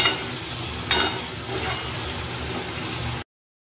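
Spiced gram-flour fritter curry is stir-fried in a pan, a steady close sizzle broken by one sharp scrape of the spoon near the start, then cutting off abruptly.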